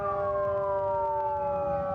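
A fire truck siren wails steadily at an Independence Day parade in Elgin, a loud sustained tone sliding slowly downward over continuous background crowd and engine noise.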